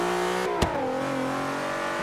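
Naturally aspirated car in Forza, engine revving loud and close, pitch climbing, then a quick gear shift with a brief drop before the drone steadies and keeps pulling.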